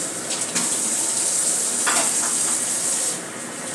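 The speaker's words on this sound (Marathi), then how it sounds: "आता यामध्ये शेवया घालून घेऊया." Vermicelli going into a hot pan for kheer and being stirred, a bright continuous sizzle with scraping stir strokes, heard alone without talk.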